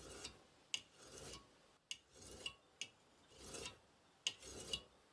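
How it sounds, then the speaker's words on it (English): A screwdriver is stroked along the edge of a woodworking card scraper, giving quiet, close, repeated metallic rasping rubs with small clicks, about a dozen strokes in rhythmic bursts. "Lay your screwdriver on the edge again, but this time tilt it slightly to one side,"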